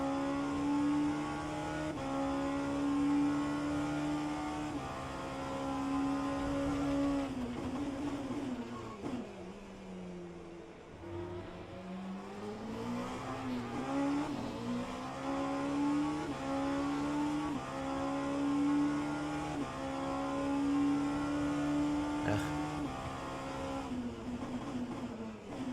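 A race car engine in the rFactor 2 racing game at Sebring, during a Le Mans Virtual Series event, holds a steady drone, dips as the car lifts off around ten seconds in, then revs back up through gear changes, with no talk.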